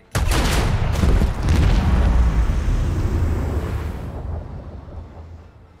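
In the video game Warhammer 40K Rogue Trader, a loud rolling barrage of heavy macro cannon blasts erupts at once, booming and rumbling before slowly fading away.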